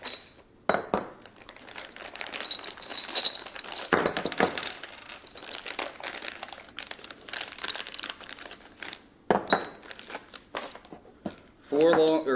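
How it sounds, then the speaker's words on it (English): Small metal hardware for a Steeda S550 Mustang differential bushing insert kit, shoulder bolts and washers, clinks and rattles in a hand through intermittent crinkling of packaging, with a few louder knocks near the end. "2 medium shoulder bolts, and 2 bolts here, as well as 2 washers."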